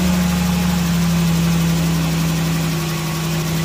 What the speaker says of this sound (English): All right, so we're gonna start the engine and let's see what kind of level we have.